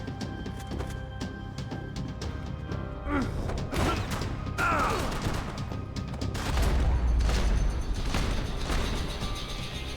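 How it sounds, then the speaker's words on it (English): Gunfire in Max Payne 3 on PC, several loud shots and crashes in a dense, busy game mix with a booming stretch near the end, with no talk over it. "I didn't need to shoot him 5 times, but I also needed to shoot him 5 times."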